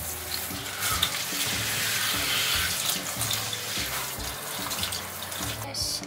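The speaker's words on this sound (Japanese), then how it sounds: "まずこのほうれん草とナスを洗います" Spinach and eggplant being rinsed under a running kitchen tap, a steady close wash of water with splashing and handling of the vegetables throughout.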